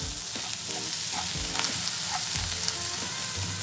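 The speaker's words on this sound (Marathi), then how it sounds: "तेलाच्या ऐवजी आपण ह्याला बटरमध्ये भाजून घ्यायचं" Masala pav stuffed with spiced potato filling and chilli thecha roasting in butter with finely chopped coriander, a close, steady buttery sizzle with occasional soft stirring scrapes and no voices.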